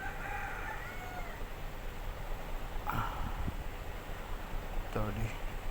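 A rooster on a small poultry farm crows faintly twice in the distance at night, over a steady low rumble of background noise with a person talking.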